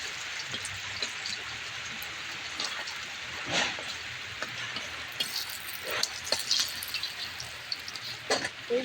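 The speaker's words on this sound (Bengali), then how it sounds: "এই যে সবগুলো পাঁপড় ভেজে নেবো আমি" Papad fries in hot oil in a home kitchen on a rainy day, giving a continuous close sizzle flecked with small crackles and pops throughout, with no speech.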